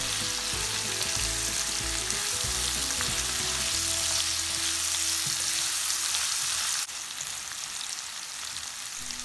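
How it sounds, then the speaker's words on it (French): Sliced onion and pork fry loudly in a pan for a Japanese pork rice bowl, with a dense, close sizzle and stirring throughout that drops to a quieter hiss for the last couple of seconds. "on va ajouter l'oignon émincé et on va faire revenir le tout rapidement"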